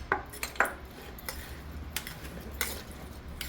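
Mango pickle being stirred together with oil and chilli powder in a bowl, with a scattering of sharp clinks and scrapes of a utensil against the container at an irregular pace, close up and with no talking.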